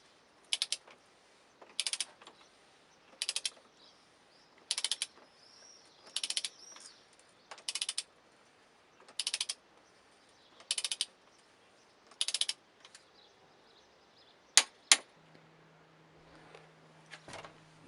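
Wrench ratcheting in repeated bursts while loosening several screws during an oil change on a BMW E60, about nine short clicking runs at a steady rhythm, close and clear, followed by a couple of sharp knocks and a low hum.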